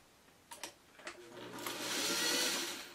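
Home sewing machine stitching through webbing for a buckle project, a steady motor whir that builds and holds loud after a few short starts and clicks, with no voices.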